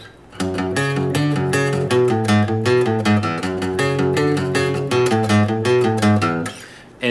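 Distorted electric guitar chugs through a galloping riff, dense and continuous, loud and up close, then stops abruptly near the end, with no one speaking.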